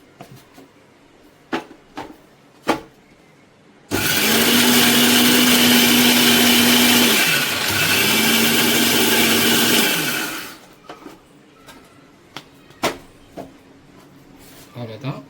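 A kitchen mixer grinder whirs loudly for about six seconds, grinding a fish fry masala with garam masala, in one motor run with a brief dip in the middle. Short clatters and handling knocks come before and after.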